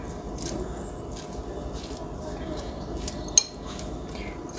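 A utensil scrapes and clinks against a dish while rice is mixed, a steady close scraping texture with one sharper clink near the end.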